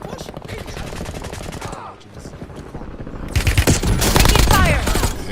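Rapid bursts of gunfire in a war video game, sparse at first under a voice and other game sounds, then turning into loud, dense, sustained shooting in the second half.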